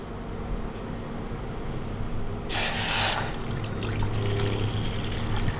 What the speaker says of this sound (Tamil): இதில் ஒரு டம்ளர் அளவுக்கு தண்ணியை ஊற்றுறேன்